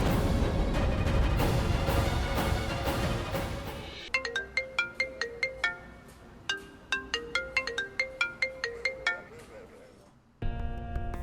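A phone ringtone plays a bright repeating electronic melody after a stretch of noisy background, with a voice briefly heard.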